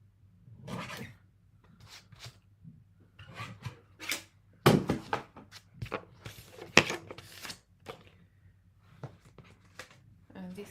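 Paper being trimmed for a stamped card with a craft trimmer, giving short scraping, rasping strokes and small taps, close and fairly quiet, with someone talking in between.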